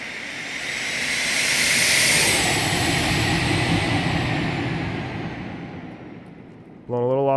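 A flight-simulator airliner's jet engines roar broadband and steady through a landing approach and touchdown, swelling then easing. A voice cuts in near the end.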